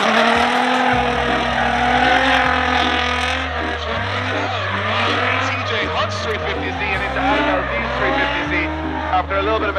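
Drift cars racing at Orlando Speedworld, engines revving hard with tire squeal and skidding throughout, loud and continuous, with a commentator talking over the action.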